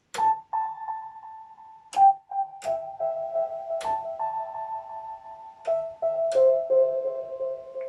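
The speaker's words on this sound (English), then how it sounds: "So I've just set the synth to a basic number 99 sine wave" Soft, pure sine-wave tones from a Yamaha PSS-390 keyboard with sharp clicky onsets, repeating and echoing through a delay, notes stepping in pitch and trailing off quietly.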